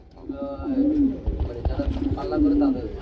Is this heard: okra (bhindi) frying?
no